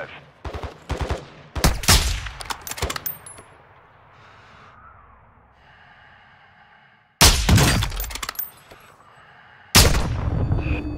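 Loud bursts of gunfire in an online shooter game, sharp cracking volleys in the first few seconds, a quieter stretch, then two more heavy bursts, with faint voices underneath.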